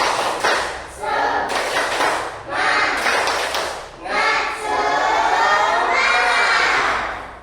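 A fourth-grade class of children chants a clapping cheer together in the classroom, with loud, continuous shouted voices and a few claps mixed in.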